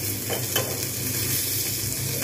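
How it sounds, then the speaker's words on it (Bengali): Oil sizzling in a pan while tempering for a red lentil curry with curry leaves, a steady close crackle with scraping stirring strokes throughout and no talking. "সুন্দরভাবে ভাজা হচ্ছে, এবারে তেল ছাড়তে শুরু করে দিয়েছে"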